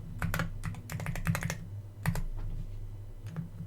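Someone types a password on a computer keyboard: a run of sharp, close keystrokes in quick uneven bursts, over a low steady hum, with no speech.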